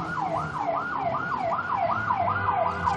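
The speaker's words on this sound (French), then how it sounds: "une ambulance arrive en trombe" A wailing ambulance siren sweeps up and down in steady repeated cycles, loud and close, over a low rumble of traffic, as the ambulance arrives at speed.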